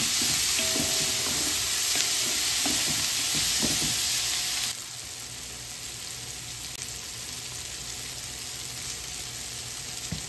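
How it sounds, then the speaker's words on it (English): Italian sausage pasta sauce with sliced garlic and Himalayan salt sizzles loudly in a pan while being stirred, a dense continuous frying hiss with faint utensil knocks that drops noticeably quieter midway. "We add, mix all together again."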